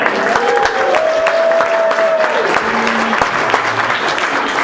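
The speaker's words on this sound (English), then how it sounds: "clap your hands in appreciation" Sustained audience applause fills a live holiday-themed convention show at Midsummer Scream 2018, a dense steady roar of clapping with crowd cheering, while a bright tonal sound briefly rises above the noise.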